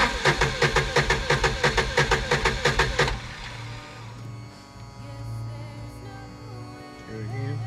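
A fuel-less engine is cranked over on its starter, giving a quick, even chugging of about a dozen loud compression beats for three seconds before it stops and a low steady hum remains.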